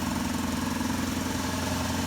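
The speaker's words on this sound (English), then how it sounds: "That horrible exhaust leak, that sounds mighty awful" An old Oldsmobile Cutlass engine idles on a cold start with a leaking exhaust, giving a steady, continuous rough rumble with a faint rhythmic putter, close and unbroken with no talking.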